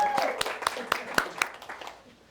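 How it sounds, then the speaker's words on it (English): A small group gives James a brief round of applause, loose overlapping claps that fade out within a couple of seconds. "So let's give James a round of applause."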